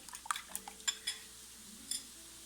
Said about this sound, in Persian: 3 تا تخم مرغی رو که داشتیم داخل یه ظرف میشکنیم و با چنگال یه مقداری اون رو میزنیم